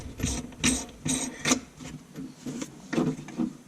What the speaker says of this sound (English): Get that tightened up there.